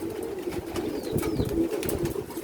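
Domesticated pigeons cooing close by in a low, steady murmur, with a few faint chirps and rustles mixed in.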